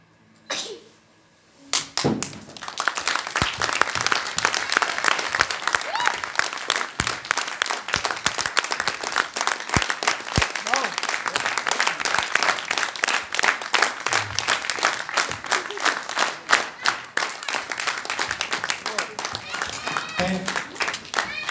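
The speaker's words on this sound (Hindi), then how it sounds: "एक बार साहिब की परफॉर्मेंस के लिए तालियां और हो जाएं" Sustained audience applause after a Hindi stage play, dense clapping that starts abruptly after a short quiet moment and keeps going steadily at full strength, with scattered crowd noise underneath.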